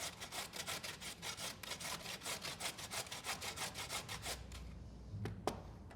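Carrot and celery rubbed by hand against a kitchen grater, a quick regular rasping rhythm of strokes that slows and stops near the end, followed by a couple of light clicks.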